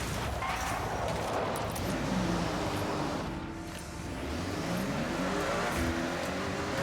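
A car driving at speed in Forza Horizon 6, a steady engine drone with road and wind noise that dips briefly midway before surging again.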